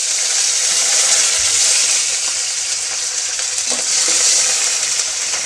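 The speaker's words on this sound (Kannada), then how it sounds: "ಇವಾಗ ನಾನು ಅದಕ್ಕೆ ಒಂದು ಸ್ವಲ್ಪ ಕರಿಬೇವು ಹಾಗೆ ಒಂದು 4 ಹಸಿಮೆಣಸಿನ್ಕಾಯಿನ ಹಾಕ್ಕೊಳ್ತಾ ಇದ್ದೀನಿ." Curry leaves and four green chillies sizzle in hot oil for a chavali kai palya, a steady loud crackling hiss with no talking.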